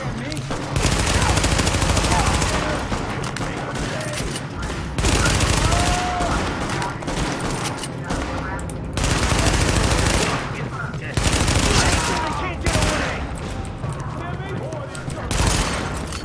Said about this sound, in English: Party's taking heavy fire from the roof.